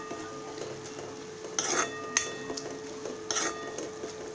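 A spoon stirs turmeric powder into browned ingredients in a pan for Maharashtrian poha, giving soft scrapes and a few light metallic clinks, near and fairly quiet, with no talking.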